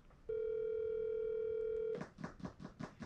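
A phone call in progress while dialing a number: a steady, loud dial tone holds for well over a second, then gives way to a pulsing sequence of ringing tones, with no voices heard.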